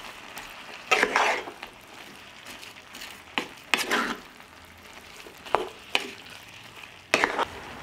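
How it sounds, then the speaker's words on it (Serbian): Vegetables with sweet ground red paprika frying in a pan and being stirred, with intermittent scraping bursts every second or two over a faint, steady sizzle. "Sve ću promešati i nastaviti da pržim dok povrće ne omekša."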